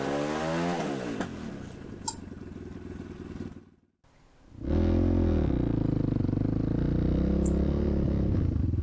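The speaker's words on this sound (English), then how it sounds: "So I'll try some low speed here, get down chugging just at idle, and then accelerate with the clutch out." Motorcycle fitted with a Whiskey Throttle tamer, chugging at low speed near idle, then accelerating with the clutch out. A steady low engine rumble fades to near silence mid-clip, then a loud, sustained rising engine note returns close by.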